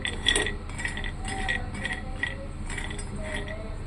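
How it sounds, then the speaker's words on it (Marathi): Almonds roasting in a pan over a low gas flame, giving soft, irregular clinks and rattles as the nuts are stirred and shifted, fairly close and quiet against a steady background hiss. "सर्वप्रथम मी या ठिकाणी बदाम भाजून घेत आहे"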